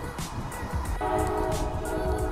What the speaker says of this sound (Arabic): وهاي طلعت بالبريك واجا قطار.